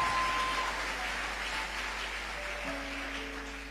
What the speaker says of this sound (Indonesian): Tepuk tangan, saudaraku.